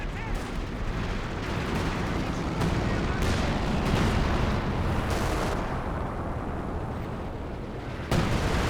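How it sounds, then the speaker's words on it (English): An IL-2 bombing run and artillery barrage pound an HQ in Company of Heroes 2, with loud rumbling explosions and heavy blasts rolling continuously, overlapping one another, and a sharp burst near the end, with a voice talking over the din. "There was the IL-2 bombing run coming in at the same time as time on target, and there goes the HQ"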